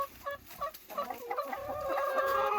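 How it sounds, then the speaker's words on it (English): Farm chickens, hens and roosters kept alongside Mulefoot pigs, released from their coop in the morning, clucking and calling in a busy overlapping flock chorus that grows louder and denser toward the end. "So we're gonna let the chickens out so they can do their job."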